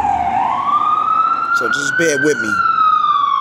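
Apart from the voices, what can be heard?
ambulance and police car sirens at night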